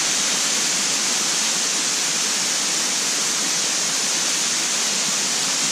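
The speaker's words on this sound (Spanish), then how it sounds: "Una, dos, tres, cuatro caídas tiene esta cascada, amigos." El Chorro, a waterfall with four drops near Playa Santa, roars as a constant, dense, hissing rush of falling water that stays loud and unbroken throughout, with no voices.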